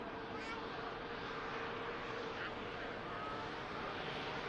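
Distant jet aircraft noise at Manchester Airport, a faint, steady broadband roar of airliners taxiing, with someone talking quietly over it throughout.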